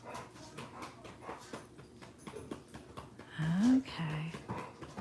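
Dogs pant indoors and one gives a short rising whimper near the end, close but fairly soft, with a voice briefly talking over them.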